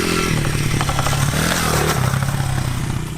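Honda CRF 100F dirt bike engine running steadily and loud throughout, a continuous droning motor with a buzzing rattle and slight rev changes, fading a little at the end.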